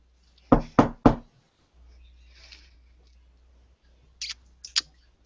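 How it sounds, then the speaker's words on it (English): A cane raps politely on a door, three quick close knocks followed after a pause by a few lighter taps, with faint background hum between them. "He goes to the door, he taps politely with his cane."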